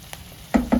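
Brinjal pieces fry in a pan. A soft sizzle is followed by two close, loud bursts of sizzling and stirring near the end, with no talking.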